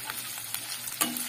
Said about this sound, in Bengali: সেটা একটু লাল করে ভাজা হোক।